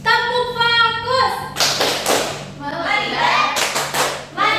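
A primary-school class in Indonesia claps the rhythmic 'tepuk fokus' focus clap in several crisp bursts, with voices chanting along between the claps.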